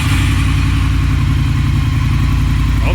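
A Triumph Thruxton R motorcycle with its catalytic converter removed runs close by, a steady, loud engine drone with a throbbing low rumble and no pause throughout.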